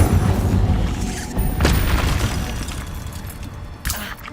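In Hogwarts Legacy, an Incendio fire spell fires off as a loud, booming blast over a dense rumble, followed by a few fainter crackling hits.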